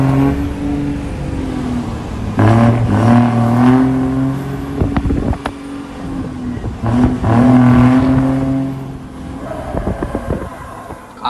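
A car engine revs and idles with a loud, rough exhaust, rising and falling in several surges over a steady low rumble, close by.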